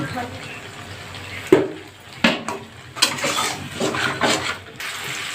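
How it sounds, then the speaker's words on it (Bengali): Potatoes are dropped into a pot of desi chicken curry, giving a few clattering thumps followed by sizzling and stirring clatter, with someone talking over the cooking. "তো এবার আমি আলুগুলো দিয়ে দেব"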